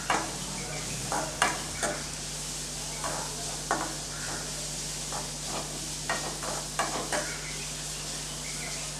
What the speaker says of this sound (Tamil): இப்போ எல்லாத்தையும் சேர்த்து ஒரு 2 நிமிஷத்துக்கு நல்லா வதக்கி விட்டுக்கலாம்